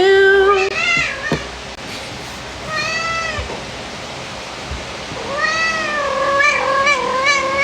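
A cat meows repeatedly, several drawn-out cries in a row, close and clear over steady background noise.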